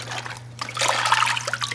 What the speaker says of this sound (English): you got water coming out of the nozzle